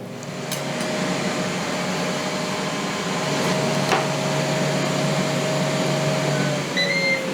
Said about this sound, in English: I just use the air fryer.